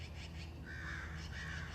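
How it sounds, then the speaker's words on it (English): Crows caw noisily back and forth outdoors, as if squabbling, at moderate distance over a steady background hum. "Sorry, I'm distracted by the birds."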